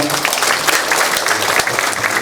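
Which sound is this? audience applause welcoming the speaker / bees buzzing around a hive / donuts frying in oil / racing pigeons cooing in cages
audience applause welcoming the speaker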